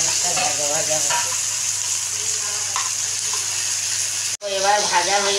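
Taro stolons fry in a pan with a constant close sizzle and light stirring, with a voice speaking over the frying in places.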